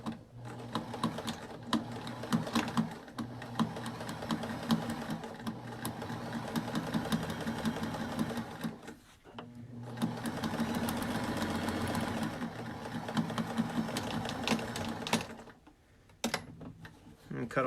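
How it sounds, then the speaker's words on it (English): A sewing machine runs a straight seam on a cloth face mask, whirring steadily in two long bursts separated by a short pause, fairly quiet and close. "So I'm just going to go in here and just do a straight sew."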